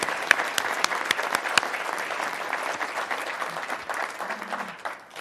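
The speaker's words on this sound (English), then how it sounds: "How about another round of applause for Peter's wonderful presentation?" Audience applause after a keynote presentation, a sustained burst of many hands clapping in a hall that gradually thins out and fades.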